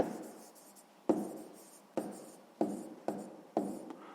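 A pen writes a number by hand on paper in a quiet room, giving several short, soft scratching strokes, each starting sharply and fading, close and alone.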